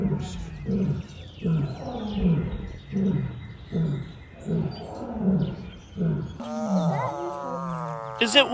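Deep, rhythmic roaring from tigers at a sanctuary, a series of about eight loud grunting roars in steady succession, with a higher bird-like call near the end.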